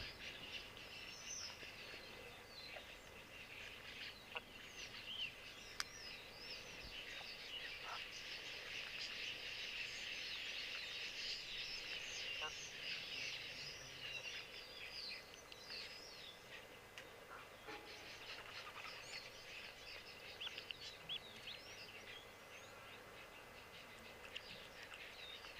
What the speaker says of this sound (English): the quillias are those noisy birds that you constantly hear